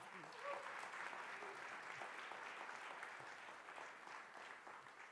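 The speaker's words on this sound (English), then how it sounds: "Another round of applause" An audience at an environmental pioneer awards ceremony held at a historic community site claps in sustained, dense applause that stays steady for several seconds, then gently fades.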